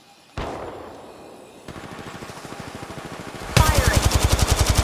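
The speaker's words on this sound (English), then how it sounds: "They're shooting at me." Gunfire in Apex Legends Mobile: a single sharp shot, then a rapid automatic burst that grows louder into fast, close, rhythmic machine-gun fire.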